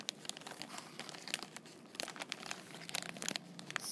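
Plastic baggie crinkling steadily while a squishy is slipped inside for packaging, with close, dense crackles and soft rustles throughout.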